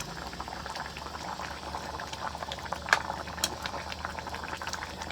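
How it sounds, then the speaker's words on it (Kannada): Chicken curry boiling in a pot while cooking beside a tanker vehicle in Goa, a soft continuous bubbling and simmering with occasional sharper pops, close and fairly quiet. "ಚಿಕನ್ ಸಾರು ಮಾಡಿಕೊಂಡು ಇಲ್ಲಿ ಇಟ್ಟು ಸ್ವಲ್ಪ ಬೇಯಿಸ್ಲಿಕ್ಕೆ ಇಟ್ಟಿದ್ದಾರೆ"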